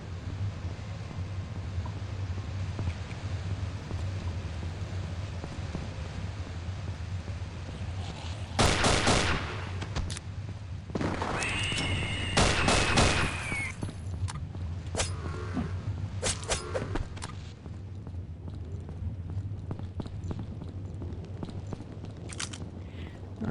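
Shotgun blasts in the horror game Afraid of Monsters, several loud sharp shots in a burst, then scattered further shots over a steady low background hum.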